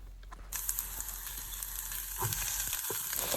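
Beans and vegetables for oats upma sautéing in a pan, a steady bright sizzle that starts abruptly after a short quiet moment, with occasional clinks of a spatula stirring through it.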